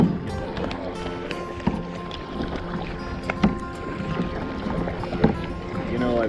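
A boat is paddled across the water at Xel-Ha in Mexico, with soft, irregular splashes and paddle knocks over a steady wash of wind and water, and a few sharper strokes stand out.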